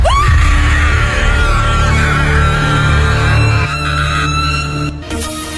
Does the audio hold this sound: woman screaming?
yes